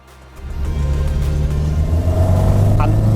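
Triumph TR4A sports car engine building from a low idle into a steady, loud droning rumble as it accelerates on a loose surface, with revs climbing toward the end.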